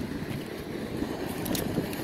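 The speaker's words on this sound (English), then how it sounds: "I'm gonna open up the blower section" The open blower section of a Lennox package HVAC unit runs with a steady, broad rushing roar of moving air. It is close and loud, with a low rumble and no breaks.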